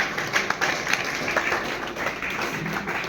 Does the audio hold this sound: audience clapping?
yes